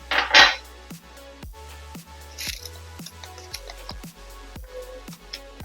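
Ice cubes dropped by the handful into a pressure cooker holding unsoaked dry chickpeas, a series of sharp clinks and knocks in quick uneven succession with a brief rattling burst at the start.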